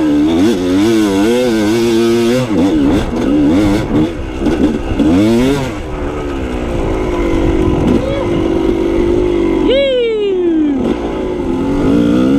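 Off-road motorcycle engine revving up and down through gear shifts on a technical trail, loud and close, with a rider calling out over it and a sharp high rev near the end.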